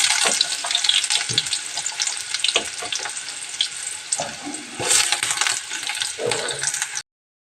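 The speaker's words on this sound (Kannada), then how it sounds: "ಈಗ ಎಣ್ಣೆ ಕಾದೈತೆ ನೋಡ್ರಿ ಇದಕ್ಕೆ ಈರುಳ್ಳಿ ಹಾಕೊಂಡ್ರಿ" Onions fry in hot oil with a bright, crackling sizzle, close and fairly loud, marked by brief clinks and stirring knocks before the sound cuts off abruptly.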